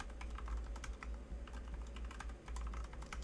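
Fast typing of a password on a computer keyboard, a close, steady patter of key clicks over a low hum, with no talking.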